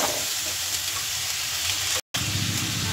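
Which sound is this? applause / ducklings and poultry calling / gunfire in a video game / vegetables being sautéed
vegetables being sautéed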